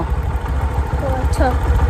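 A motorbike engine idles with a low, steady rumble close by on a village road at night, with faint voices briefly audible over it.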